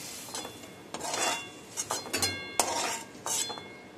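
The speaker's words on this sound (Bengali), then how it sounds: "আমি একটা প্লেটের মধ্যে তুলে নিচ্ছি" Fried prawns lifted from a pan onto a plate with a utensil, giving a string of close, quiet metallic clinks and scrapes spread across the few seconds with brief pauses between.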